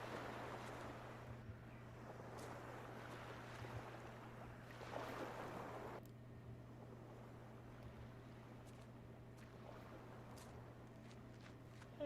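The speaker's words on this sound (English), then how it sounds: "I hear the ocean." Ocean ambience in the game The Last Door, a faint wash of surf and wind over a steady low hum, with soft swells and gusts and no talking.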